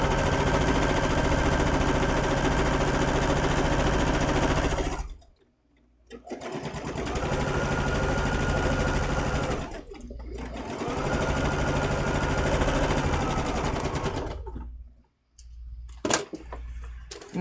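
A sewing machine stitches a quilt section in three long runs of fast, steady whirring rattle, loud and close, each ending in a brief stop before restarting.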